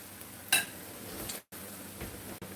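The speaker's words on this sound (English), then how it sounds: "We're going to let these fry a minute." Salmon patties frying in a pan give off a faint, steady hiss, with a single brief clink early on and two short breaks in the sound.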